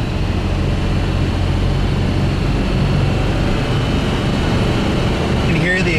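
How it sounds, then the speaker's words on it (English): A 1963 fuel-injected Corvette with solid lifters and 4.11 gearing cruises over hills at about 2600 rpm, its engine and exhaust making a loud, steady, close drone with no breaks. "The exhaust, you can hear the solid lifters spinning a lot of RPMs"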